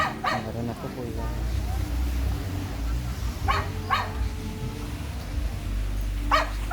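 A dog on Bohol island in the Philippines gives a few short yips and barks, spaced apart, amid low rumbling background noise and nearby people.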